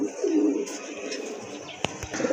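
A breeding pair of pigeons coos softly at close range, a low rolling warble with a faint chirp and a few small knocks.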